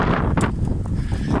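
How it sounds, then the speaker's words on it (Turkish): Strong seaside wind at Şarköy, Turkey, buffets the microphone in a constant low roar with gusty surges, fairly loud and close throughout. "Acayip rüzgarlı."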